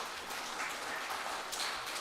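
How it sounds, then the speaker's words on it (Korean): Steady, dense clapping from a church congregation during a Sunday service, sustained throughout with no voices over it. "이분들을 위해서 박수 한번 보내주십시오."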